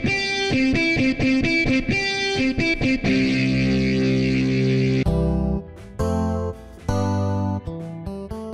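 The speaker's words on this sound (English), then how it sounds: "AeroGuitar has authentic guitar sounds." AeroGuitar smart guitar producing electric guitar tones with heavy distortion and effects, a strummed, chord-driven passage that swells and breaks off in short stabs, loud and close with no voices.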